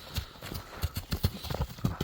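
A tall horse walks along at an easy pace, its hooves clip-clopping in a steady uneven rhythm of close, distinct thuds with no one talking over them.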